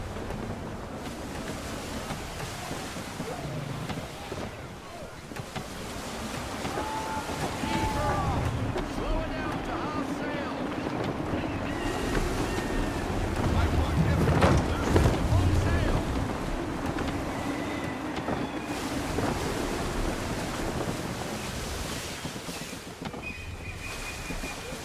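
Sailing ship in Assassin's Creed 3 pushing through gusty wind and waves, a steady broad rush of wind and water with creaking and splashes throughout, a voice speaking over it.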